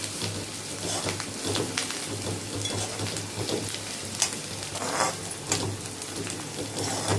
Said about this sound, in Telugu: ఇక్కడ పప్పు మసులుతుంది, ఇక్కడ వేగాలి